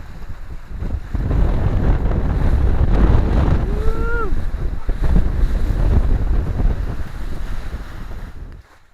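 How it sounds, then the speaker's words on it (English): Steady wind and sea wash roar around a Seawind 1000 catamaran under sail, a broad continuous rush that holds for most of the stretch before dropping away near the end, with a brief whistling tone midway. "Pretty happy with this wind today."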